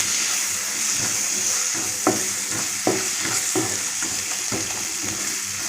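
Two onions sliced lengthwise go into frying pepper chicken masala in a pan: a loud, constant sizzle close by, broken by a few sharp spoon knocks and stirring scrapes, with no talking.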